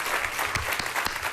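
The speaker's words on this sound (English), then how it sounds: "I have to applaud, too." Audience applause at Apple's October 2014 iPad Air 2 announcement, a dense steady patter of many hands clapping with a few sharper claps standing out, close and continuous throughout.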